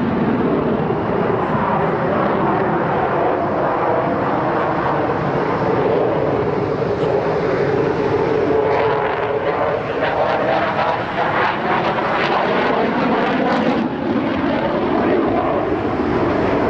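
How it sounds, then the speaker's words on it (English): A Eurofighter combat jet flies past with a loud, sustained roar. Broad engine noise swells and shifts steadily throughout, with no talking over it. "a combat airplane produced by Europe to take on the world militarily"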